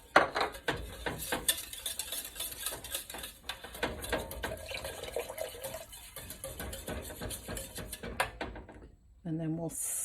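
A spoon clinks and scrapes in a pot as vegan white sauce is stirred constantly over medium-low heat while milk is added. The light clatter comes in quick, uneven taps under a voice talking.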